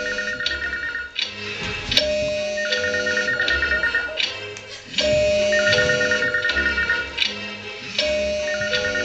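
A telephone ringing in repeated bursts of trilling bell tones with short pauses between, loud and close with no voices.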